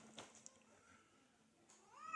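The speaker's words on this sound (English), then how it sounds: "It's a talking cat." Short, faint cat meows indoors, a couple of thin, rising and falling calls spread across about two seconds.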